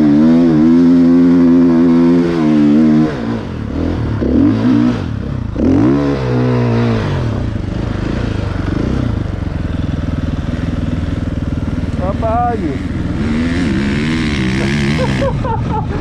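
KTM motorcycle engine revving loudly on an off-road hill climb at a mine site, with rising and falling throttle bursts, close by and continuous.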